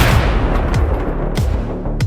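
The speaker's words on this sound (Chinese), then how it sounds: "让楼上的手下开枪打死了小弟" Gunfire in a Chinese gangster film scene, several sharp gunshots cracking one after another at roughly half-second intervals, loud and close over a dense rumbling action soundtrack.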